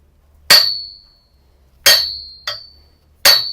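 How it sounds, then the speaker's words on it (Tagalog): Four sharp metallic clangs of a machete, made from a horse-carriage spring, hitting a steel tube, each ringing out briefly before the next, loud and close with quiet between strikes. "makikita po ninyo na pinupukpok po ay tubo, steel tube"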